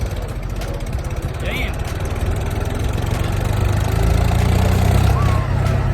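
A tractor engine runs at a steady idle close by, a continuous low, throbbing rumble that grows slightly louder toward the end, with a voice speaking briefly over it.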